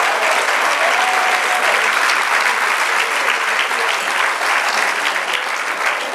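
A church congregation at a women's meeting breaks into steady, dense applause, loud and sustained from start to finish with no speech over it.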